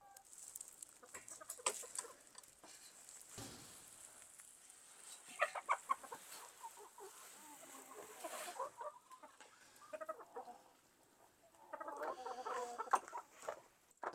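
Hens clucking and pecking around an empty automatic chicken feeder, soft irregular taps and low murmuring clucks scattered over a quiet backdrop, with occasional louder bursts.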